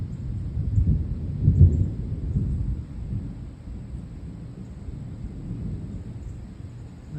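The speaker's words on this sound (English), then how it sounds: "There's no rain, it's just really loud thunder." Loud thunder rolls low and heavy on a hot day with no rain, a deep rumble that swells in the first seconds and then fades into a long, steady distant grumble.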